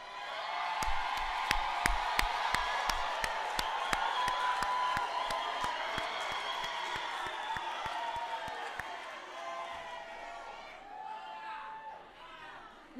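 At a University of South Africa spring graduation ceremony, a large hall audience applauds graduates' families in steady, sustained clapping with scattered cheers and whoops, crowd chatter underneath, fading toward the end.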